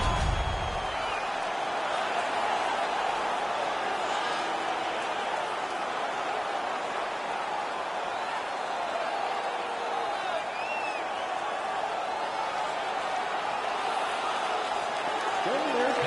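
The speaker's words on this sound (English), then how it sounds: "The crowd is ecstatic." Arena crowd in the hockey video game NHL 18 cheers and roars after an on-ice fight, a steady loud wash of crowd noise with occasional whoops, while a commentator talks over it.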